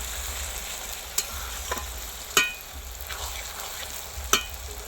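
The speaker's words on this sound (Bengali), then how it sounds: "পেঁয়াজটা ভাজা হবে ভাজা হতে হতে একটু জল দিয়ে দেবো" Onions fry in a pan for a mutton curry, giving a steady low sizzle broken by a few sharp utensil knocks, close by and with no voices.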